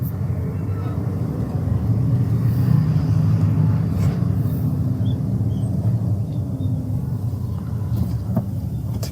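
A manual car's engine hums and rumbles continuously while it drives through city traffic, a dense low steady drone with a few faint higher clicks and knocks.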